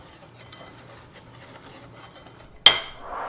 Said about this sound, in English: We'll stir all this together.